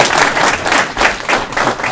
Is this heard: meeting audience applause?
yes